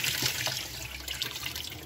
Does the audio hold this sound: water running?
yes